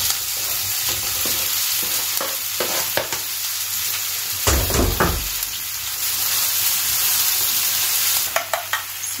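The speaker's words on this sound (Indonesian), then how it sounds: "Aku mau tumis dulu bawang putihnya sampai wangi. Masukkan bawang daunnya." Garlic and leeks sautéing in a pan, a steady sizzle under repeated scraping and stirring strokes, with one heavier clatter midway and a few quick taps near the end, close up and without talk.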